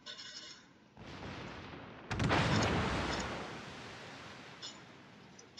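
Warship naval guns fire in the World of Warships video game during a tier 9 clan battle, with a loud rumbling boom that swells and slowly decays into a long roaring wash, and no talking.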